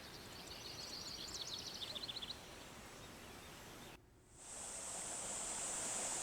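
A forest stream near Seonunsa temple in Gochang flows with a steady, soft rushing wash, a few bird chirps over it early, then a brief dip before the water noise returns a little brighter.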